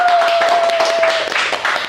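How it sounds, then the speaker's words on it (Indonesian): Audience applause for General Moeldoko at a comedy roast, a brief dense burst of clapping from a crowd, loud and continuous with a steady whistle-like tone running under the first half. "Tepuk tangan untuk Bapak Muldoko."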